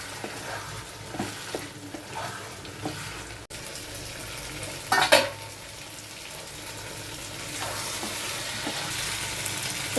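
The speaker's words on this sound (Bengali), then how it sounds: "এখন আমি আলুগুলো ছেড়ে দিচ্ছি।" Potatoes added to partly cooked mutton frying in a pan hiss with a steady sizzle, joined by occasional stirring scrapes and a brief louder clatter midway, the frying growing a little louder toward the end with no talk.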